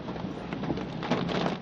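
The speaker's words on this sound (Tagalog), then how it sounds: "dahil sa lakas ng ulan" Heavy downpour on the Skyway in Parañaque during a typhoon, a dense, loud wash of rain noise that roars steadily throughout with no voices.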